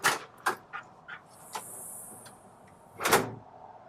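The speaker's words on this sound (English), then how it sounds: "We want it to get close, and then just a gentle slam" A few light clacks and bumps, then a screen door swings shut on its door closer with a soft but firm slam near the end, with a faint hiss in between.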